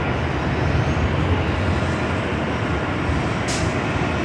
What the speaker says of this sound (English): We do have a United Dreamliner, Flight 38,